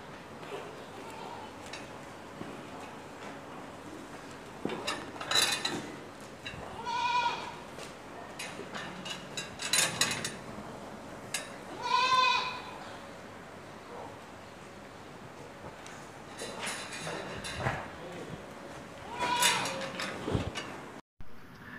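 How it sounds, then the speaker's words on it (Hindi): Desi Malwa goats in a farm pen in Indore bleat several times at irregular intervals. The calls are moderately close over a quiet background hum. "अपने अपने देसी मालवा बकरियों का सेक्शन है"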